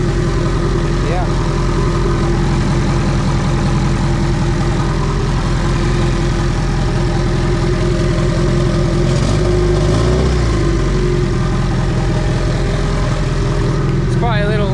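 A Honda D16Y8 engine in an EK coupe idles at about 1,000 RPM on its first start, a steady, loud low drone with a slight uneven pulse and people talking over it.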